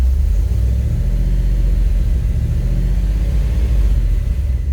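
Truck engine fitted with Holley Sniper fuel injection, affected by a sticking throttle, running loud and close as a heavy continuous low rumble with only slight variation in revs throughout.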